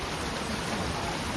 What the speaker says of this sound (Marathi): पाऊस पडतोय